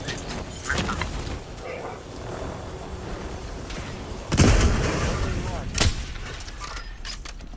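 Enemy missile airstrike in the video game Warzone: a heavy blast booms at mid-clip, a second sharper explosion follows soon after, and scattered gunfire and game noise run throughout.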